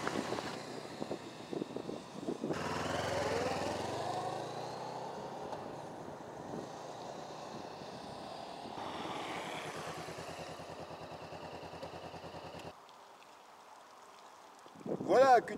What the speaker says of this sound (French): ici au ralenti, et même si on accélère un petit peu, bon, on l'entend un petit peu plus, on entend bien le bicylindre.